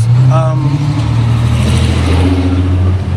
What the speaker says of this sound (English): I had to keep quiet because of that truck